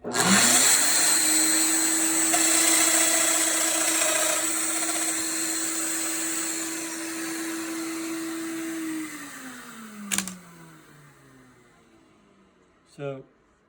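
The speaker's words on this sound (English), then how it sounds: "It's hooked up to my vacuum. I'm going to turn it on." A shop vacuum, hooked up to a DominoXLD700 dock, switches on and drones steadily at a high pitch, then winds down as it shuts off, followed by a couple of sharp clicks.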